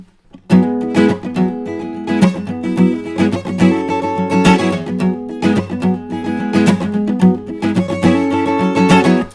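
An acoustic guitar is strummed in bursts for a song, alternating loud accented strokes with softer muted ones in a busy, rhythmic pattern.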